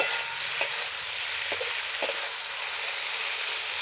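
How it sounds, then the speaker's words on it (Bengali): Vegetables fry in a pan with a steady, bright sizzle, and a few sharp clinks of a spatula stir through the hiss close up. "আমার সবজিগুলো ভাজা হয়ে গেছে সবজিগুলোকে আমি বেশি ভাজবো না"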